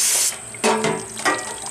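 Tap water splashes into a sink as a rock tumbler barrel is rinsed out, three close, loud bursts of rushing and spattering water separated by brief lulls.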